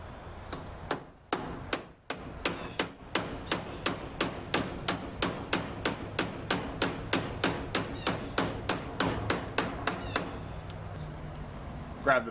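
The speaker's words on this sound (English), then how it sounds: "always make sure you get the biggest hammer you can find to do delicate work" A big hammer pounds steadily on metal while a rat rod go-kart is built, with a few loose opening blows and then over twenty sharp, evenly spaced strikes, close and loud, before a short pause and one last hit.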